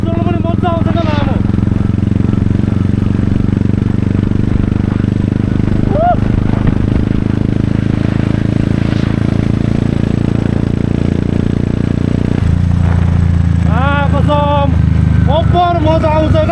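Motorbikes ride along a road in Salbari, Jhapa, their engines droning steadily throughout with a shift in tone partway, while people talk over the engine noise.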